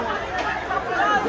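Crowd chatter at a political gathering in Edo state, a brief, dense murmur of many overlapping voices at steady moderate loudness, with no single voice standing out.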